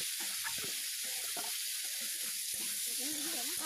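Potatoes fry in a pan with turmeric and chili powder while being stirred. A constant hiss of frying runs throughout, with a voice talking faintly over it.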